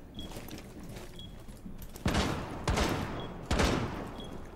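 Bursts of gunfire in a PC shooter game, three loud crackling volleys spaced about a second apart over a faint background hum.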